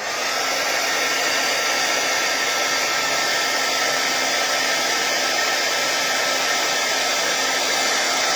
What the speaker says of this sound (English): Now I need to grab my heat gun.